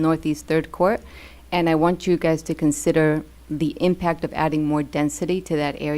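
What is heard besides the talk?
None of the usual background noises is heard.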